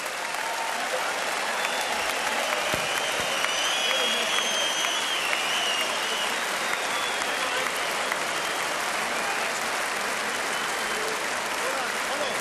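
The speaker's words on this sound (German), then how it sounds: "Ich bitte um genauso einen riesen Applaus für beide Boxer." A boxing arena crowd applauds both fighters after a ninth-round knockout in Dariusz Michalczewski vs Alejandro Lakatos, a dense, steady roar of clapping that fills the whole stretch without pause.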